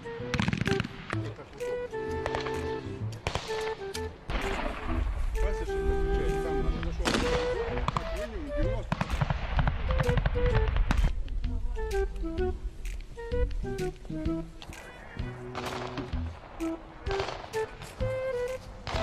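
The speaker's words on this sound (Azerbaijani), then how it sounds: "Rusiya Müdafiə Nazirliyinin yayımladığı videoda isə sonradan görüntülərə silahdan atəş səsləri əlavə olunub" Bursts of rapid gunfire sound effects dubbed onto military training footage, with repeated volleys and single shots over a dense bed of music and voices, loud and continuous throughout.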